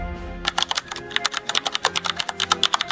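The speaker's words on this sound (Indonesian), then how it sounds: "Tapi tepat pukul 2:17, suara ketikan itu muncul lagi. Kali ini lebih keras." Rapid, loud keyboard typing in a quiet room. Sharp, uneven clicks of keys come in quick bursts, close and forceful, with no voices.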